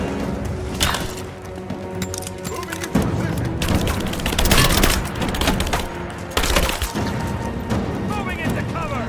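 Gunfire and crashing impacts in a combat scene from Rise of the Tomb Raider, loud and continuous with heavier bursts, mixed with a shouting voice.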